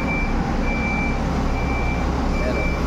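A vehicle backing up to park on a busy street sends out evenly spaced, moderately loud reversing beeps over a rumbling engine and traffic noise.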